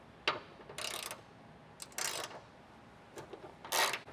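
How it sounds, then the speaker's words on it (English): Three to four bursts of quick ratcheting from a 12 mm socket ratchet loosening a bottom hood hinge bolt on a 2024 Toyota Land Cruiser, close up and moderately loud with short pauses between strokes. "So the bottom bolt, we're gonna go ahead and take that out with a 12 millimeter socket."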